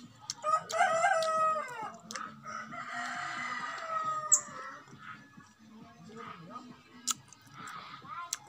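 A rooster crows loudly and close by in a cramped neighbourhood of houses, one long crow followed by clucking and scattered bird calls, while someone talks over it.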